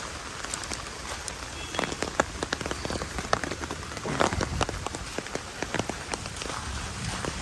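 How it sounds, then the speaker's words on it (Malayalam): Heavy rain pours steadily onto surfaces around a house, with close, irregular drops and splashes pattering sharply over a continuous dense hiss. "മഴ ഇങ്ങനെ കൂടി വന്നുകൊണ്ടിരിക്കണ്."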